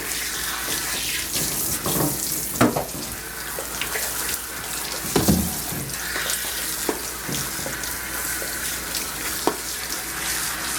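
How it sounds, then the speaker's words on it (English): Running water from a sprayer rinsing a dog during a bath at a groom shop, a steady close hiss with occasional splashes and shifts in flow as the spray moves over the coat. "we're gonna rinse it off"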